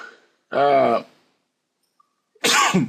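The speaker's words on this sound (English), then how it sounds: "sorry, my apology because I'm coughing now" Two sharp, harsh bursts of coughing, a second apart with silence between, close to the microphone.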